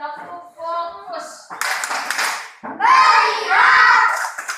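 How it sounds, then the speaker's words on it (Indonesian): Children in an Indonesian classroom clap a rhythmic routine together, sharp group claps broken up by a teacher's voice and the pupils chanting along. "kita tepuk dulu."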